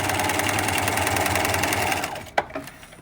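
A sewing machine stitches through paper for a cube model, running in a fast, even, rattling hum at close range before it slows and stops with a couple of soft clicks.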